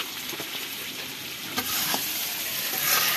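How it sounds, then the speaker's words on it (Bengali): Local meat stir-frying in a pan, a steady close sizzle with bright hissing and occasional sharp crackles and stirring scrapes, alone without talk. "তপু দেশি মাংস রান্না করতেছে।"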